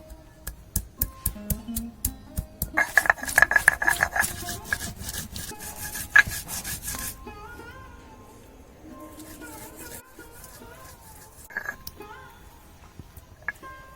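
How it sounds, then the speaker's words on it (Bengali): Chilli, cumin and ginger ground by hand into a spice paste, a steady run of rough scraping and rubbing strokes, close and fairly loud, with some knocks and a quieter stretch toward the end. "শুধু লঙ্কা জিরে আর আদা বেটে নেব"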